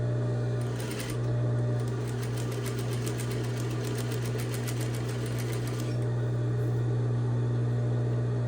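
A sewing machine stitches a tote bag seam with dark thread, giving a continuous close hum with a rapid ticking needle rhythm that speeds up in the middle stretch and then settles back to a steady drone.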